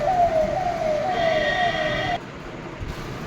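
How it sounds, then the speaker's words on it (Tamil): An emergency ambulance siren sounds near Sabarimala in Kerala, a loud close wailing tone sweeping steadily downward and repeating over road rumble before it abruptly stops. "emergency ambulance"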